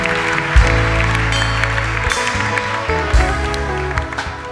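A church congregation at a worship service claps and cheers for the Lord, a dense, close wash of applause mixed with sustained music and crowd noise, fairly loud throughout.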